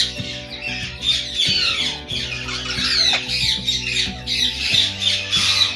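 Ringneck parrots from a breeding pair squawk loudly and repeatedly at close range, harsh shrill calls overlapping continuously with no talking.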